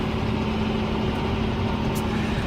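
Farm tractor engine running during autumn ploughing, a steady low diesel drone with a constant hum, close and continuous for the whole stretch.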